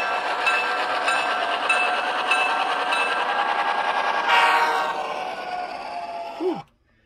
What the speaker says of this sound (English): It's actually a really neat sound of diesel locomotive